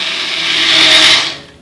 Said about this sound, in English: back onto the blender, probably for about another 20 seconds or so